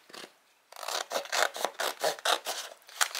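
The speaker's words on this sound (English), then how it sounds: "I just go ahead and trim the excess off." Excess material is trimmed off cardstock with a series of short scraping, rasping cuts, about ten quick close strokes in a steady rhythm after a brief pause.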